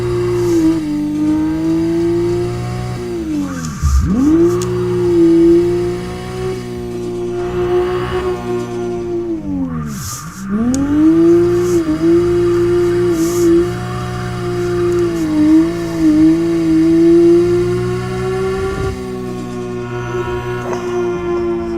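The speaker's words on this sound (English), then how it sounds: "That blow-off valve is hilarious." A turbocharged car revs repeatedly in the snow, its engine loud and close with rising and falling pitch, and short dips at each lift-off where the blow-off valve vents.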